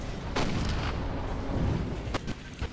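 Tank cannon firing in the Toy Soldiers video game, a few sharp booming shots over a rumbling battlefield background, close and punchy.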